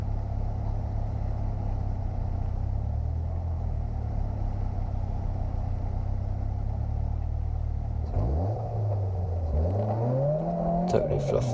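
A race car launching from a sprint start on the Abingdon long course, a steady engine drone that suddenly swells into a loud rising rev in first gear, with a voice talking over the engine noise.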